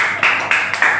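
Children clapping in a classroom, a few quick bursts of group applause in rhythm, close and loud, with no talk over it.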